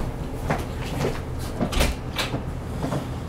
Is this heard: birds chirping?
no